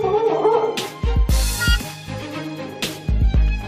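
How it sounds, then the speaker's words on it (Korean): A dog with an aggressive temperament barks in sharp repeated bursts, loud and close, with whimpering yips between the barks indoors. "하지만 다시 또 짖기 시작하는 별이."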